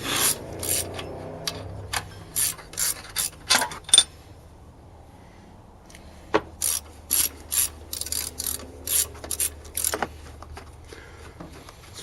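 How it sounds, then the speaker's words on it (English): A ratchet wrench clicking in short, quick bursts during an alternator swap on a 2002 GMC Yukon XL, with close, sharp metallic ratcheting separated by brief pauses. "It's a fine Saturday for some wrenching."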